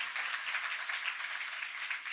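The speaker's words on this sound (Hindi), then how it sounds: "आओ हम इन अजीम हस्तियों के लिए जोरदार तालियां बजाएं" Faint applause from a congregation at a church service, a brief even patter of many hands clapping at a distance.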